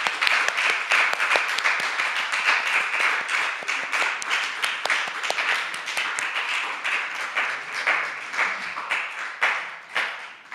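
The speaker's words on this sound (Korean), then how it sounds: "박수 부탁해요" A small congregation at a young adults' church Sunday service claps steadily and evenly for about ten seconds, close and moderately loud, with no talking over it.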